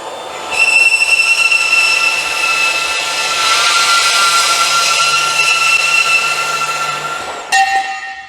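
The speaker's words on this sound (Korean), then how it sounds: "바로 한번 밴드소로 한번 잘라 보겠습니다" A Bosch GCB 18V-127 cordless band saw cuts through 50x50 square metal pipe with a loud, steady, high-pitched ringing whine that lasts about seven seconds before the cut ends and a brief clatter follows.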